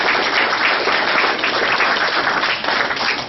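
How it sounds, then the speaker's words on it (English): Dense, steady applause from a large audience honoring a guest speaker at an education talk, sustained loud clapping filling the room for about three seconds with no voices. "I want you to clap right now for yourself"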